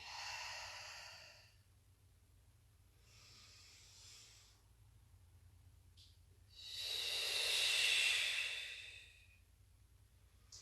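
Breath exhaled during a Pilates breathing exercise: a few soft, airy breaths with a longer, louder exhale near the end, close to the microphone over a low steady hum, with no talking.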